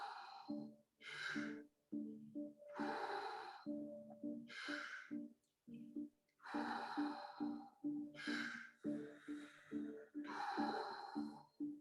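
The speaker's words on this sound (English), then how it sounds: "Breathe in, breathe out." Slow, deep breaths drawn in and pushed out in a steady rhythm, close and audible, each inhale and exhale rushing in turn over a faint background tone.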